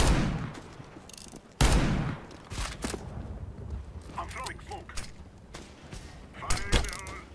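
Revolver gunfire in the shooter game CS:GO, several sharp shots spaced apart amid other game noise and mechanical clicks, with a voice talking over parts of it.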